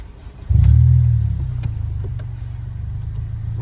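A car engine bursts into a loud, deep rev, then settles back to a lower steady throbbing idle, close and prominent, with faint clicks over it.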